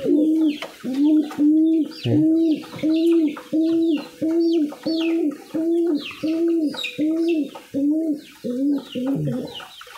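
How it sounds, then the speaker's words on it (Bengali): A pet pigeon coos from its loft in a steady series of about a dozen close, evenly spaced throaty calls, each a rising-then-falling roll, with faint background chirps. "দেখেন এর ডাকটা অনেক সুন্দর কবুতরটার"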